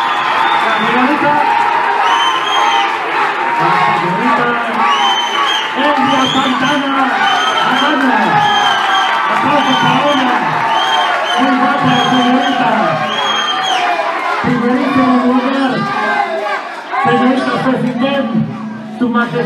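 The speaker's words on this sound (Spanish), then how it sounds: "Que se escuche la aplauso fuerte para el primer lugar." A pageant audience at the Señorita CECYTEM 2016 crowning roars with sustained cheering, whoops and applause for the first-place winner, while a loud voice keeps speaking over the crowd throughout.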